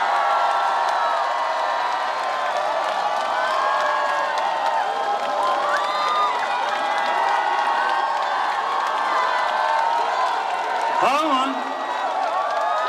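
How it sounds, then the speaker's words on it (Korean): Cheering and applause from a large crowd at a political election rally in a convention hall in Gwangju, a steady dense roar of voices and whoops filling the whole stretch, with a brief louder shout near the end. "한 분 한 분 뜨거운 박수로 환영해 주시면 감사하겠습니다."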